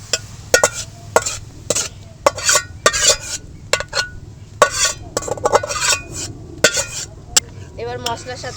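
Boiled vegetables are stirred into a cooked masala for pav bhaji, with a spoon scraping and clinking against the pan in loud, rhythmic strokes over a faint sizzle.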